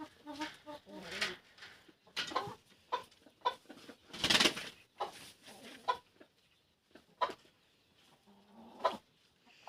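A stressed broody hen and other chickens cluck in a yard, close, irregular bursts of clucking and squawks, with quieter gaps between calls.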